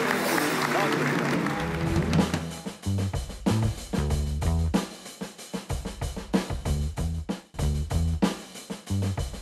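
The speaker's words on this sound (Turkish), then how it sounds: "Biz Alkışlıyoruz." A studio audience at a Turkish late-night talk show applauds in a dense burst for about two seconds. Music and a voice then take over, with only scattered clapping left underneath.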